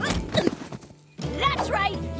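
Cartoon hoofbeats of a long-necked horse galloping off, with quick clip-clop thuds and a whinny mixed under excited animated voices shouting.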